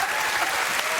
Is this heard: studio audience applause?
yes